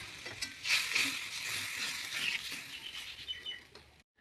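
Milk is poured into a pan of fried spice masala, bringing on a steady, soft sizzle and crackle with light stirring scrapes, fairly quiet and close, ending abruptly.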